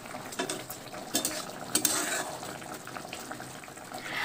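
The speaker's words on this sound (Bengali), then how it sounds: "মাছের ঝোলটা হালকা হাতে একটুখানি নাড়াচাড়া করে নিচ্ছি" Aila fish curry with ridge gourd is stirred gently in a pan, a low bubbling simmer with soft scrapes and light clinks of a spoon against metal.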